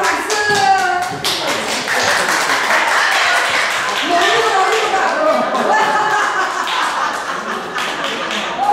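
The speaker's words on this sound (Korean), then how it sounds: "아버님 박수!" Hand clapping and tapping during a Korean wedding ceremony, steady and close throughout, mixed with an officiant's voice and crowd chatter as the groom carries the bride.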